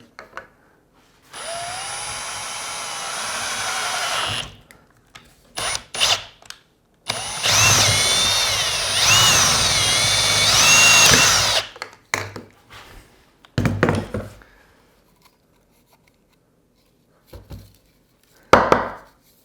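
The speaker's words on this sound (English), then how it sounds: "I'll go ahead and drill a little hole on this pipe" A power drill in a portable multi-angle drill guide whines in several bursts while drilling a small hole in a pipe, one long sustained run bogging and rising in pitch, separated by pauses and short trigger blips.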